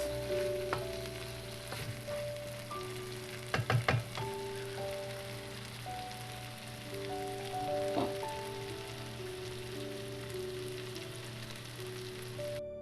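Ground beef and potato keema fries on a high flame, a soft continuous sizzle like light rain with occasional louder clinks of a utensil against the pan, heard up close.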